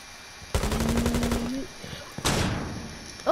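Video game gunfire: a rapid automatic burst of shots lasting about a second, then a second loud burst after a short pause, heard close and sharp.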